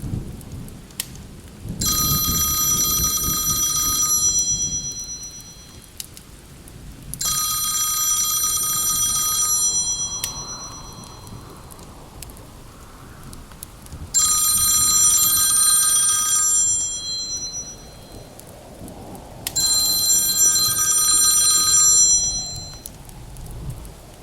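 A telephone rings in four evenly spaced bright bursts, each lasting a few seconds, set against a steady bed of rain and low rolling thunder.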